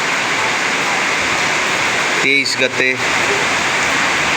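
Heavy morning rain pours down in Butwal, a loud, steady wash of noise lasting the whole stretch, with a short spoken phrase partway through.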